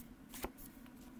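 Tarot cards riffle quickly in a short, soft burst of papery flicks, close by and quiet against a low background hum.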